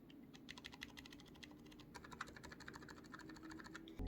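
Rapid typing on a mechanical keyboard fitted with silent switches such as Outemu Silent Peach or Silent Lemon, a soft, dense patter of muted keystrokes at a steady pace, fairly quiet and close.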